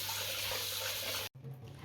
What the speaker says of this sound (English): I'm going to first wash the mutton well with water.